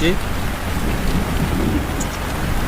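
Heavy rain pours down in a steady, dense roar, with low thunder rumbling underneath throughout.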